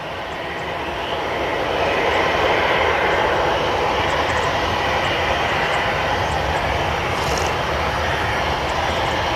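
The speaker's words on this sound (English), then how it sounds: "So you have this EasyJet A320, is it?" easyJet Airbus A320 jet on approach into Manchester Airport, a loud continuous engine rush that swells up in the first two seconds and then stays steady, with no talking.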